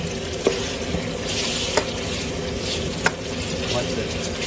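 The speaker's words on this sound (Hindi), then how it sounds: "2 से 3 मिनट चिकन को भूनते हुए अभी थोड़ा सा इसको और भून लेंगे" Chicken sears in oil in a karahi for Karachi karahi, giving a dense close sizzle with a few sharp spatula clanks against the metal wok as it is turned.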